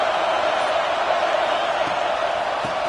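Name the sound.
stadium crowd cheering at a football game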